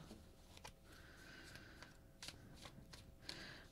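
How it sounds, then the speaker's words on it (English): Tarot cards shuffled by hand, a soft continuous riffling with a few sharper snaps, quiet and close, no talking. "I'm gonna shuffle one last time for the third deck"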